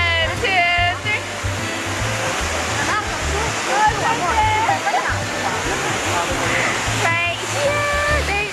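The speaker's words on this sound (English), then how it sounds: "We were taking pictures at the Trevi Fountain" Trevi Fountain in Rome: water from the large outdoor fountain roars and splashes steadily and loudly, while nearby people talk over the constant rush.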